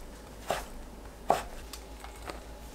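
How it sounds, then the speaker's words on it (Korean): A knife cuts fresh Korean seaweed (miyeok) into pieces on a board, giving a few soft, separate chops spaced irregularly, quiet and close in an otherwise still room. "미역을 10cm 길이로 썰어주세요."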